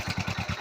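Motorcycle engine idling and turning a pulley that drives a bore well motor, with a steady, close, loud chugging beat at a quick regular rhythm and no talk.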